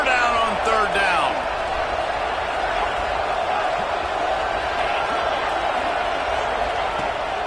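A stadium crowd at a college football game, Arizona against Michigan, roars in a steady, dense wash of noise on a third down, with whistles and shouts rising near the start before it settles into a constant loud rumble.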